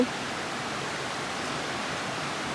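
A waterfall rushing in the forest, a steady, even roar of water that holds constant throughout with no voices.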